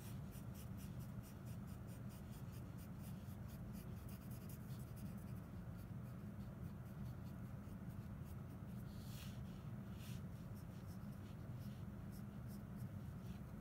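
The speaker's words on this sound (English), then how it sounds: "I'm going to be layering down a lot of charcoal." Charcoal pencil shading lightly across drawing paper in soft, steady scratchy strokes, with a repeated rhythmic back-and-forth rasp, close and quiet, with no talk.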